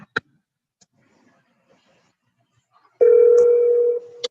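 A phone being dialed to place a call: a few faint clicks, then a single steady electronic tone holds for about a second, close and clear in an otherwise quiet room.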